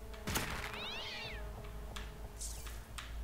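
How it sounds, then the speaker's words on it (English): Cat in South Park: The Fractured but Whole gives a clear, drawn-out meow close by, with a few soft game clicks and thuds and a second short cry near the end. "Where's that goddamn cat at?"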